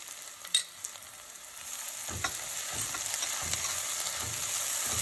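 Ginger garlic paste with onions sizzles steadily in a pan for an Andhra thali, a soft frying hiss with a few light stirring clinks. Heard alone at close range.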